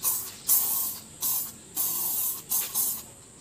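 BS1 cleaner sprayed onto Isuzu MU-X engine parts during engine detailing, five short hissing spray bursts of varying length, close and distinct with quiet gaps between.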